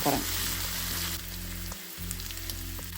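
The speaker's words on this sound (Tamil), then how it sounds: "இப்போ வெட்டி வச்ச பச்சை மிளகாய் சேர்க்குறேன் சேர்த்து நல்லா கோல்டன் ப்ரௌன் ஆகும் வரைக்கும் கொதிய விட" Chopped green chilies frying in oil for upma, a loud continuous sizzle and crackle up close, with a low steady hum underneath and a brief dip partway through.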